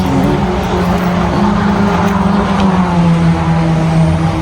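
A steady, loud roar of race car engines droning around a speedway at a Toyota Gazoo Racing PH Cup weekend, with layered engine tones rising and falling continuously.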